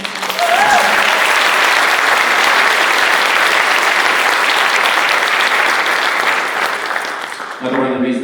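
An audience at a band winter concert applauds loudly and steadily for several seconds in a thick wash of clapping that fades near the end, when a voice begins to speak.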